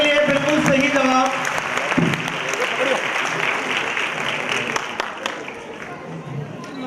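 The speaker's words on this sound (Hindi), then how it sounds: "जोरदार तालियां इनके लिए" Applause for a contestant's correct answer at an Islamic quiz contest, a steady, dense clapping from a crowd that fills the whole stretch, loud at first and easing slightly toward the end.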